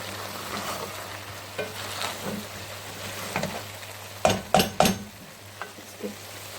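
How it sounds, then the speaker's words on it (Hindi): Cauliflower and meat stir-fry over high flame with fresh coriander, a continuous sizzle with intermittent spatula scrapes and a few sharp clanks of the utensil against the pan near the end. "इसे अच्छी तरह से हमने भून लेना है।"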